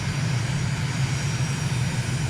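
A MiG jet on its landing approach in a flight simulator, a steady, loud, unbroken engine drone with no talking.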